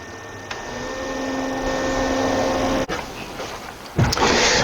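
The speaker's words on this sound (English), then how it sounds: "this is a trolling motor" An electric trolling motor, running again after being submerged, gives a steady close whine and hum with a faint tonal line, then a sharp clunk and a louder surge near the end; no talking.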